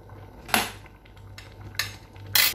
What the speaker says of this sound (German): Jetzt habe ich hier ein bisschen Gelierzucker. Den können wir da gleich schon mal dazugeben.